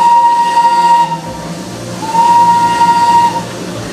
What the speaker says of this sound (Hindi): और क्या पता ये ट्रेन आपके साथ साथ ही चलने लगे